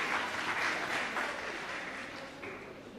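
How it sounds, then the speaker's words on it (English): Close, loud applause for the graduates at a graduation and awards ceremony, a thick, even wash of many hands clapping that fades slightly toward the end, with no talk over it. "let's put a round of applause for the candidates who completed the 20th Small Business Assistant Facility."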